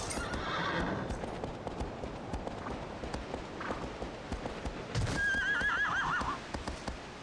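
Horse hooves clop along in the Shadow of the Colossus game over a wash of ambient rushing, and a clear, wavering neigh rises late in the clip.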